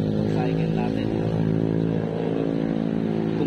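A motorcycle engine drones steadily on the Daang Hari highway, loud and close, with wind rushing over it. Someone talks continuously over the engine noise.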